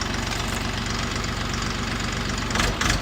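Orion 244 RF tractor engine running in a higher gear, a loud close diesel chug with a rapid, even knocking rhythm throughout, briefly swelling near the end.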